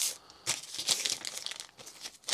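Well-wrapped eBay parcel of network cards being unpacked, with sharp bursts of crinkling and tearing packaging in quick, uneven handfuls, close and fairly quiet.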